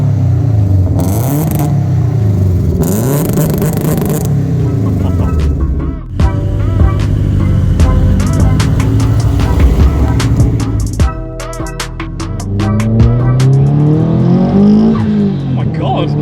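Subaru Impreza WRX STI blobeye built to 450bhp, accelerating and revving on the road, its engine note rising and falling with gear changes, loud and close, with people talking over it throughout.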